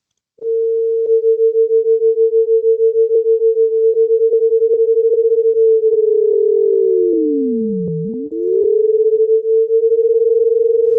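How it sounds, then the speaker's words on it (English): Two close pure tones sound together at once, producing a steady pulsing beat that slows and wavers as one pitch dips and returns, loud and alone without any voice. "two frequencies that are close to each other, you'll hear some beating or roughness, interference."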